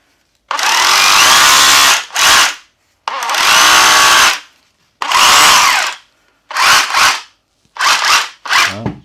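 Makita DHR202 cordless SDS hammer drill running in hammer mode, loud and close, in five bursts of harsh hammering rattle separated by short silences, with no talk over it.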